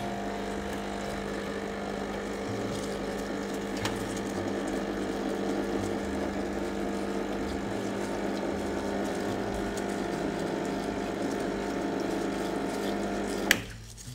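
An espresso machine hums and pumps steadily at close range while its group head is brushed clean of coffee grounds, with a faint rhythmic scrubbing texture and a sharp click near the end.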